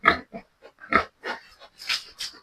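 Pregnant sow on a farm gives a series of short, close grunts in an irregular rhythm, about eight in quick succession with no other sound around them.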